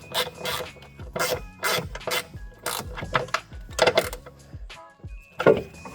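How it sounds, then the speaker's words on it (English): Bursts of ratchet clicking as a ratchet tightens bolts on a Jeep Grand Cherokee fuel filter, quick repeated pawl clicks in several short runs with brief pauses, close and fairly quiet, no talking. "Just gonna tighten these up, the same ratchet we used to put them on."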